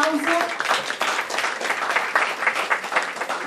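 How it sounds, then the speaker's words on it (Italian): An audience at an Italian poetry book evening gives sustained applause, dense clapping that stays loud and even from start to finish. "vorrei veramente un grande applauso"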